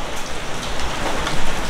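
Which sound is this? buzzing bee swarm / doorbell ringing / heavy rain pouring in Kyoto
heavy rain pouring in Kyoto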